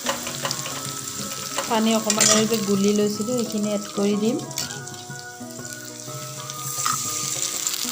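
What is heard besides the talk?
masala frying in a pan until brown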